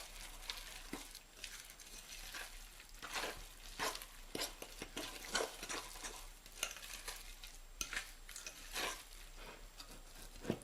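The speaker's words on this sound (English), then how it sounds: "We're going to mix those together. Stir to combine." Thick cornbread batter being stirred together by hand in a bowl, with wet and dry ingredients combined; a steady scraping and slapping rhythm of spoon strokes, close and fairly quiet, with no talking.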